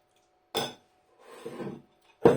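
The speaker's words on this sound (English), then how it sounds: "The gravy, another quick stir." A spoon stirs Bisto sausage gravy in a pan: a sharp metallic clink, a soft scraping swirl, then another bright knock against the pan, all close and with no talk.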